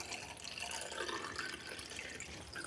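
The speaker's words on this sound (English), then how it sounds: "In goes the developer." Film developer is poured into a developing tank, giving a steady, soft liquid trickle and gurgle that runs throughout, fairly quiet and close.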